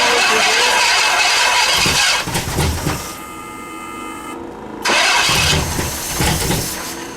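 A Pontiac Bonneville's engine cranks and catches, then roars loudly for several seconds, dips quieter midway, and surges back up to a steady rumble.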